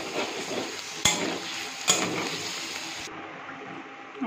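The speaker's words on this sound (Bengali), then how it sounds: "তারপর একটু লাল হয়ে গেলে ঘি দিয়ে ভেজে নিচ্ছি।" Paneer fries in ghee in a pan, a steady close sizzle broken by a couple of sharp utensil clicks as it is stirred, with no talking.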